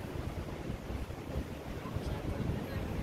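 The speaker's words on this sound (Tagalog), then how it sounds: "napakasarap ng hangin, yung simoy ng hangin dito guys" Steady wind rushing and buffeting against the microphone in Makati City, Philippines, a continuous rumbling roar with no speech.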